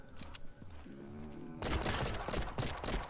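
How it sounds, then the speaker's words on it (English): Rapid bursts of gunfire cut loose while shooting zombies in the video game Dead Purge: Outbreak, loud, dense shots crowding the second half after a quieter stretch of game sound. "I decided to shoot at zombies with the sunlight directly in my eyes"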